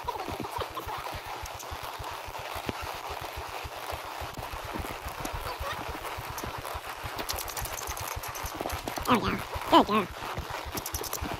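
Horse hooves clip-clop in a steady, even rhythm on hard ground at a farm, with a person speaking briefly near the end.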